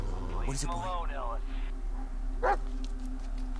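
A dog in the Blair Witch VR horror game gives a short bark or yelp between moments of someone speaking, with a faint second yip following in a quiet, low-humming scene.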